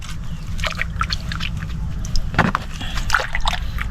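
Seawater flowing in along the shore where clams are gathered, sloshing and trickling close by in irregular splashes and gurgles.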